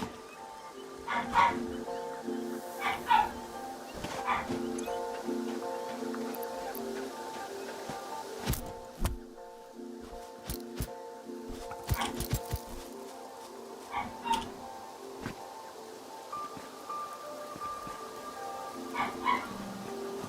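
Faint yips and soft whimpering from a dog-like creature in the video game Satisfactory come in scattered bursts over a quiet background, with occasional sharp clicks.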